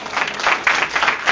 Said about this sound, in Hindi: ताली मार का परमेश्वर